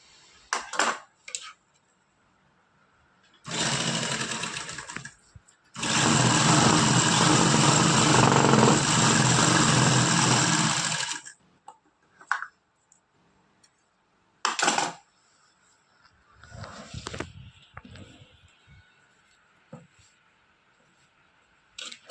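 A sewing machine stitches a salwar in short whirring bursts, one brief run then a longer steady run of several seconds, close and fairly loud, followed by scattered small clicks and handling noises.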